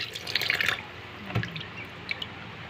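Fish being rinsed in water in a kitchen before cooking it for a soup with malunggay: soft splashing and dripping at low level, with brief clinks and a small knock midway.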